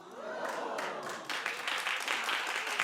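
Studio audience on a daytime talk show breaking into thin, scattered clapping that swells briefly after a quiet moment, heard from a distance and fairly faint.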